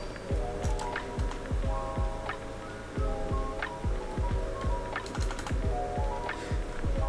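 A computer keyboard rattles with rapid bursts of key presses and short pauses between them, close and clear, as a command is typed in.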